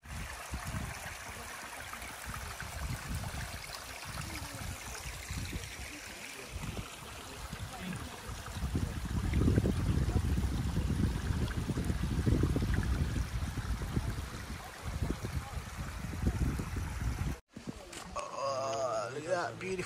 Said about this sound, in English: The sound of the water, and it's all coming down from the top of the mountain